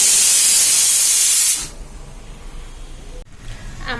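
Food steams on a home stove where a mother is cooking dal, a loud hissing rush of steam for about a second and a half before cutting off to a quiet room with faint clinks.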